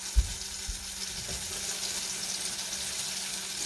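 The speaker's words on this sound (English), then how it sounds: "I'm going to wash my hands." Tap water runs steadily while hands are washed at a home kitchen sink during pot roast preparation, a continuous broadband hiss with a couple of soft low thumps near the start, no talking.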